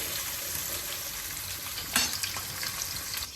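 Onions fry gently in a pan, giving a faint, even hiss with one brief scrape of stirring partway through.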